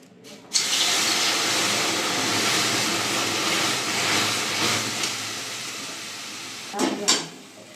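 Water splashes into semolina fried in ghee and sets off a sudden, loud burst of hissing steam that roars steadily for several seconds before a few final spluttering bursts.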